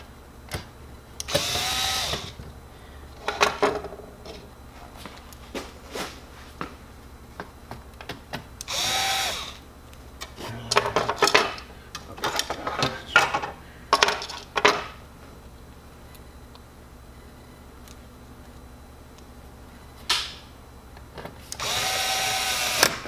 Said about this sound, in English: remember, never over torque your screwdriver